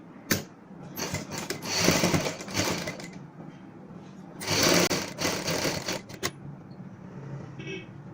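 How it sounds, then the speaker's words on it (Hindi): Sewing machine stitching topstitching along the neckline of a kameez, running in bursts of rapid whirring with short pauses between them, fairly close and steady. "और यहाँ पे हम ऊपर से सिलाई लगा लेंगे।"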